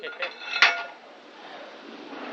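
Hammer knocking leftover cut pieces off an iron plate: a few sharp metallic clanks, the loudest near the middle, ringing briefly over a quiet background.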